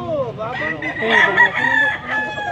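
A rooster crows nearby in a long, wavering call, with other fowl clucking around it and some distant talk underneath, at a poultry sale.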